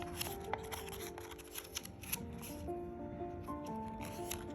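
Origami paper is reverse folded while a triangular prism model is made, giving soft, close crinkling and rustling with small crisp creasing ticks. The sound is continuous and quiet, with no talk.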